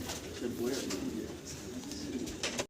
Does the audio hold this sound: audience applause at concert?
no